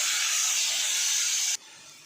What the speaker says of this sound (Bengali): গ্যাসের ফ্লেমটা হাইতে রেখে লালচে হওয়া পর্যন্ত ভেজে নিচ্ছি